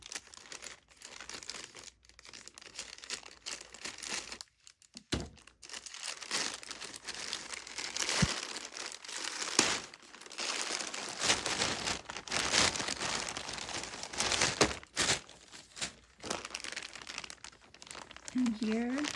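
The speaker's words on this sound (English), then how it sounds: "So the first one is these little bags here. So I'll just cut it open." Small plastic bags from a clothing haul crinkle and rustle as they are cut open and handled, a dense, continuous crackle with brief pauses and occasional sharper tearing bursts, heard close up.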